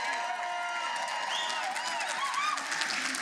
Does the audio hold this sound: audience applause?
yes